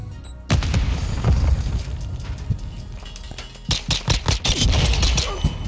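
Video game combat: a Semtex grenade goes off with a deep boom, followed by loud bursts of rapid gunfire and further booming blasts toward the end, all close and dense.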